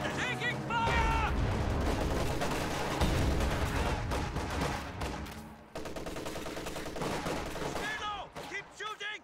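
Sustained bursts of gunfire and explosive volleys from a video game battle, dense and loud throughout, with radio-style voices and chatter mixed over the shooting.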